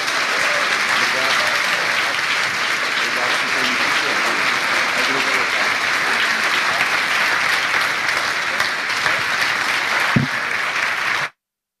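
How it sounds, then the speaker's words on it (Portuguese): A church congregation gives a couple a long, steady round of applause, a dense wash of clapping that holds evenly for about eleven seconds before cutting off abruptly. "dar uma salva de palmas para esse casal"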